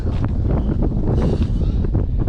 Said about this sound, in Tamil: காற்று செம்மையாக அடிச்சுட்டே இருக்கு.